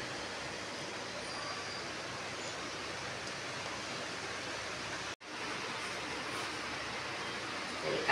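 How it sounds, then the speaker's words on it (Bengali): Nigella seeds sizzle as a tempering in hot mustard oil for a pointed gourd dish, a steady close hiss of frying that holds throughout with one brief dropout partway. "কালো জিরে ফোড়ন দিলাম"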